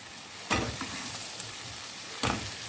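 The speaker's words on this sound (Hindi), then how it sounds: "ये सारी प्याज इसमें डालने के बाद हम इसे एक बार अच्छे से करेंगे मिक्स।" Onions frying and sizzling in a pan for a potato and okra curry, with a steady hiss and two brief bursts of louder stirring scrapes, close and alone without talk.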